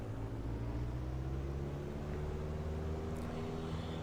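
A simulated aircraft engine runs at full throttle in the Prepar3D v2 flight simulator, giving a steady low drone with a constant hum, moderately quiet and unbroken throughout.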